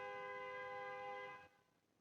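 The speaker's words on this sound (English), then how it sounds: "I love that horn just honked, like Kali just came in." A car horn sounds in one sustained, fairly faint blast from some distance outside, holding a steady tone for about a second and a half before cutting off into quiet background.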